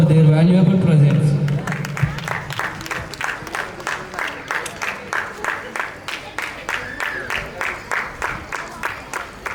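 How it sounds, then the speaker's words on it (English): At an inter-school photography contest prize ceremony, a voice speaks briefly before applause takes over, settling into a steady rhythmic group clap with evenly spaced beats that continues to the end. "A heartful round of applause for their valuable presence."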